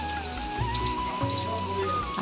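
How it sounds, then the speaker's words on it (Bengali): Steady torrential monsoon rain patters and drips throughout, with water splashing onto surfaces and pooling before a house doorway, and a faint tonal hum running underneath. "কি পরিমাণে বৃষ্টি নেবেছে মানে মুসলধারা বৃষ্টি নেবেছে"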